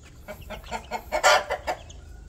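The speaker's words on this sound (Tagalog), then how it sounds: "Ito yung ating mga tandang." Roosters at a backyard poultry farm cluck and squawk in a quick irregular series of bursts, nearby, with one louder, harsher call in the middle.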